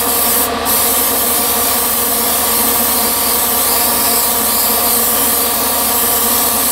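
Spray gun laying a light mist coat of paint, a steady unbroken hiss running loud and close from start to finish with no pauses.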